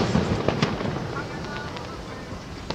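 Distant Fourth of July fireworks over downtown Grand Rapids, heard while walking near a bridge: a few scattered, muffled pops and crackles against a steady outdoor city hum, with faint voices nearby.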